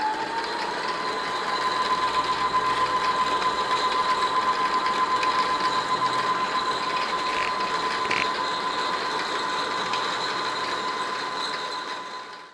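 A Brother CS6000i sewing machine runs continuously while winding thread onto the bobbin, a steady close mechanical whir with a high whine that slows and fades out at the end.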